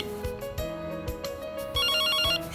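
A phone ringtone rings loudly and steadily up close as a repeating tonal melody with rhythmic beats, alone and without talk.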